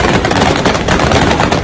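Gunfire crackles in Kabul in a loud, continuous, dense burst of rapid shots, with no talking.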